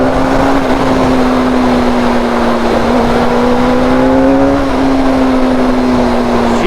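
A Suzuki GSXR600 K4 sport motorcycle pulls hard from mid to high revs, a loud, close engine drone with a steady tone that climbs slightly as it accelerates.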